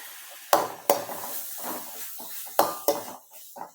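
Chopped tomato tipped into a pan of frying onions for a homestyle chicken and ash gourd curry: two sharp clatters against the pan with soft stirring and sizzle between, then another pair of knocks and scraping, close and moderately loud.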